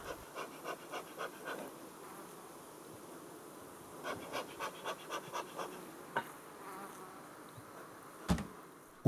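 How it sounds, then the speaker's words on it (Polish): Bees buzz softly in repeated short pulses, a gentle droning hum rising and falling in quick regular bursts, with a couple of faint taps. "i automatycznie pszczoły to przynoszą do ula"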